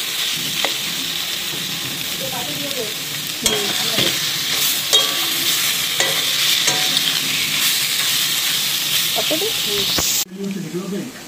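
Taro greens and grated coconut stirred in a frying pan, a steady hiss of sizzling under scraping and clinking of the spoon against the pan, close up, running continuously before the sizzle drops away near the end.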